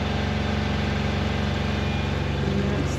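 Inboard engine of a 2002 Bavaria 36 sailboat on a sea trial off Preveza, Greece, idling steadily with an even low chugging throb close by, no talking.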